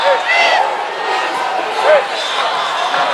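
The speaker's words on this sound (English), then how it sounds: "The crowd getting a little impatient here." A basketball arena crowd murmurs and shouts restlessly during a Hawaii Rainbow Warriors versus Cal State Fullerton game, with sneaker squeaks and a commentator talking over the steady din.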